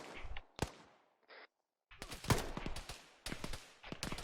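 Gunfire in the military shooter Arma 3, played in a realism squad training session: sharp loud reports in bursts, with a short isolated shot early, then a dense volley of shots, a pause, and another burst.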